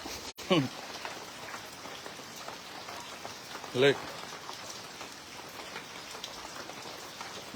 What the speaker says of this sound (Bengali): অনেকদিন পর বাংলাদেশের বৃষ্টি উপভোগ করলাম আরামের বৃষ্টি থাকছে